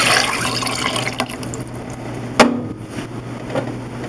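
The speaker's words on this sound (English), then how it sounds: "we're going to now add our beef stock" Beef stock poured into a cooked roux for braised short ribs, a steady liquid pour and fill running under a low hum, with one sharp splash or clatter near the middle.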